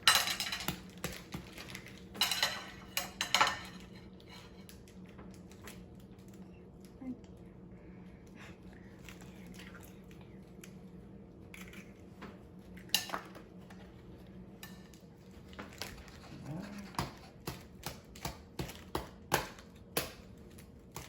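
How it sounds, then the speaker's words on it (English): Eggs are cracked into a bowl for scrambled eggs in a home kitchen. Sharp taps and clinks of shell against the bowl come in small clusters, separated by quiet stretches with faint handling noise. "We're going to crack some eggs"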